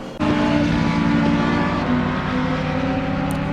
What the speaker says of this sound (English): you can hear where the cars around you are